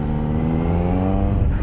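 Kawasaki Z900 inline-four naked motorcycle engine droning steadily and loudly while riding through tight corners, a continuous close mechanical hum with slight rising revs near the end.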